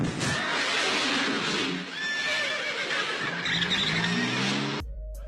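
Horse in a Bollywood film scene, whinnying loudly over hoof clatter and car and skidding noise, then cutting off abruptly at the end.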